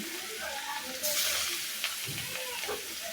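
Rohu fish pieces fry in hot oil with a steady, close sizzle and crackle, a louder burst as more pieces drop in, and a few soft utensil knocks.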